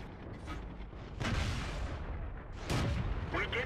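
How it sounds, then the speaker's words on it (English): Two heavy shell impacts clang against an enemy turret in the World of Tanks video game, each a loud ringing crack over a steady engine rumble, the second followed by a thin metallic whine. "I bounce off his turret."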